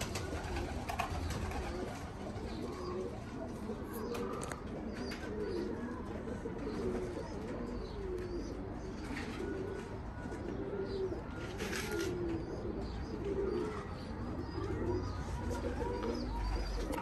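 Racing pigeons coo steadily and close by at a pigeon race, a continuous soft rolling murmur of many birds at once.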